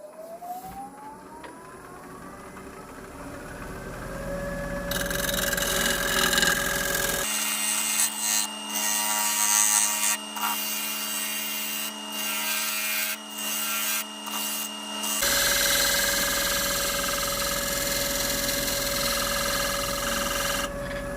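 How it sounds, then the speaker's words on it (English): A wood lathe turns an olive wood platter. The spinning motor whine rises in pitch as it speeds up, then a loud, continuous rubbing and scraping of the tool cutting the wood, broken by brief pauses. "I'm actually going to increase the speed of the lathe"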